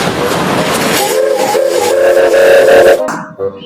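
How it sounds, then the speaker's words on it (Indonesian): A Thomas toy train runs loudly and close by with a busy rattling whir and a whistle-like tone. It cuts off abruptly near the end. "Yang ini ada kereta Thomas."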